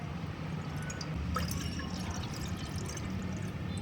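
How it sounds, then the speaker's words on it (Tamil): Two glasses of water are poured into a cooking pan for a tomato chutney, a soft, continuous splashing trickle with a few brighter drips, fairly quiet and close, with no talking. "பேனில் 2 கிளாஸ் தண்ணி சேர்த்துக்கோங்க."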